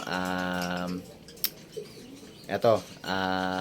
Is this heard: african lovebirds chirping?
yes